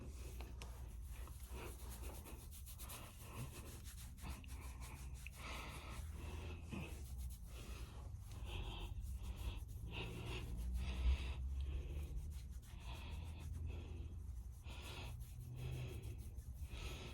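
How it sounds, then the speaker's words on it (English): Hands rubbing product through short hair locs, a soft continuous scratchy friction close to the ear with repeated strokes and no talking. "And kind of like rub it through the locks."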